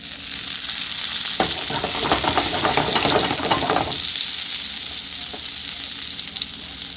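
Butter, minced garlic and fresh garden sage sizzling in a hot pan for brown butter sage sauce, a steady close hiss with a burst of crackling spatters in the middle that settles back to a constant sizzle.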